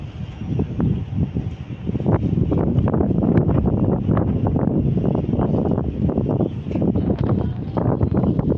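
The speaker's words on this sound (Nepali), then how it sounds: "गाइस हावा चलिरहेछ मलाई" Strong wind buffets the microphone high on an observation tower overlooking Melaka city and the sea in Malaysia, a loud continuous rumbling roar with gusty surges throughout.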